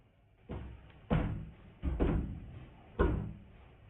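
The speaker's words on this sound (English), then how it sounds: "I've been hearing banging for a good little while now. It comes from the bathroom door over there" Banging from a bathroom door at night: four dull, heavy thuds with short reverberant tails, spaced irregularly about a second apart, fairly faint and distant in a quiet room.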